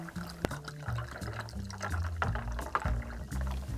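Liquid pours into a Kalimotxo cocktail glass, about four ounces, a close, continuous gurgling trickle with small splashes and a sharp clink near the start, no talking.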